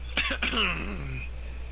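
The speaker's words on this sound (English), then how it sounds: "Just a cough." A short cough or throat clearing, a few quick bursts followed by a hoarse vocal trail, fairly close over a low steady hum.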